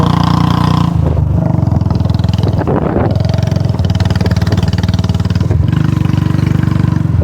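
A motorcycle engine runs loud and close, rumbling steadily with a couple of brief revs that rise and fall. No voices.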